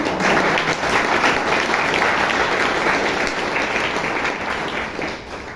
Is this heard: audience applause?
yes